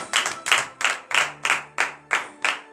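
A church congregation claps in unison during a morning prayer service in Benin, a steady rhythmic beat of about three claps per second, close and lively with no talk.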